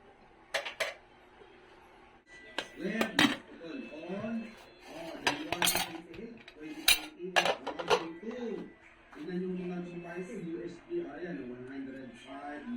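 A metal lid set on a cooking pot of pork sinigang, several clanks and clinks of cookware scattered among a person talking close by.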